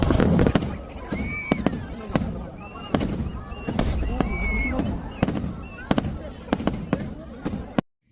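Thiruvambadi's sample fireworks display at Thrissur Pooram crackles in a dense, rapid barrage of sharp booms and bangs, loud and continuous before cutting off abruptly, with crowd voices mixed in.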